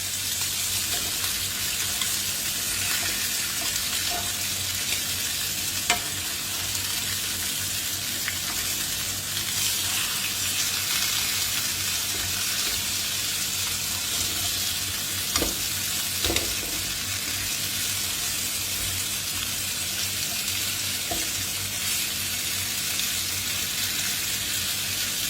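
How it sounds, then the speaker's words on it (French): Meat for osso buco sizzles and fries steadily in a pan while being stirred, a continuous hiss with occasional soft scrapes and clicks from the utensil, close and moderately loud. "Je suis occupée à tourner la viande."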